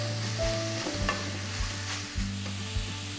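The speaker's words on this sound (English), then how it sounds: "Give it a nice stir." Garlic and root vegetables stirred in a hot pan, a steady sizzle and fry with repeated scraping stir strokes close by, no talking.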